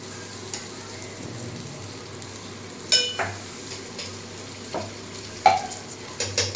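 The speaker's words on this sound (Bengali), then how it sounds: "এখন আমি এর মধ্যে দিয়ে দেব পরিমাণ মতো আদা রসুন বাটা।" Ginger-garlic paste frying with browned onions in a pan, a low steady sizzle under occasional sharp clinks and scrapes of a stirring utensil against the metal.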